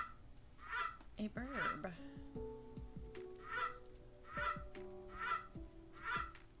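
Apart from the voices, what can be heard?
wall clock chiming with a Canada goose call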